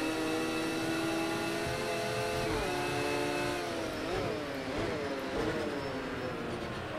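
A race car engine in Project CARS 2 during an FIA GT race at Laguna Seca drones loudly and steadily, then dips and rises through several gear changes as it accelerates after the Andretti hairpin.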